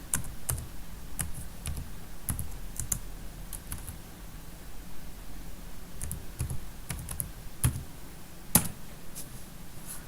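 Typing on a computer keyboard, soft irregular clicks and key taps in scattered bursts, quiet and close with no talking.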